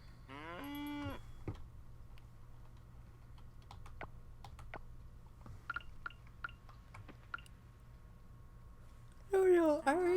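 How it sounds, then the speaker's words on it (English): Cow mooing in the farming game Coral Island, a drawn-out moo at the start and another at the end, with scattered keyboard clicks and a steady hum between. "Hi, cow."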